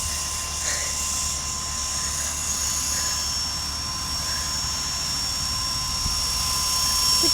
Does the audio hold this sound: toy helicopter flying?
yes